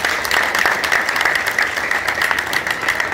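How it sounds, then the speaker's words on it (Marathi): Loud, dense applause from an audience at a park garden inauguration, continuous clapping throughout without a break, close and full. "त्यांच्यासाठी जोरात टाळ्या झाल्या पाहिजे"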